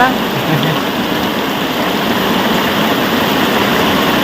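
Heavy monsoon rain pours down in Botad village, a loud, dense, unbroken hiss and patter that fills the scene steadily from start to finish with no letup.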